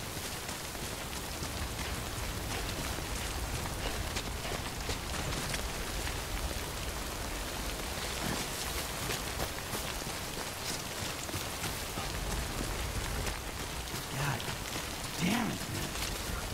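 Steady rain from the video game Death Stranding patters and hisses continuously, an even, dense downpour that fills the whole scene.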